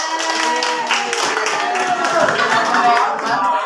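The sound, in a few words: applause for group 3 in a classroom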